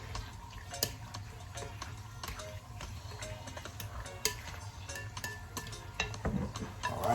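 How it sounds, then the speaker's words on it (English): Jamaican-style beef kidney being stirred in a pot, a steady run of soft scraping and clinking knocks from the spoon against the pot over a low background hum, fairly close and moderate in level. "stir this up"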